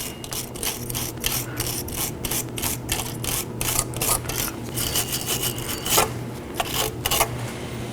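Rear drum brake lower mounting points on a Nissan Sentra are scrubbed clean, producing rapid, repeated raspy scraping strokes up close, steady and rhythmic with no talking.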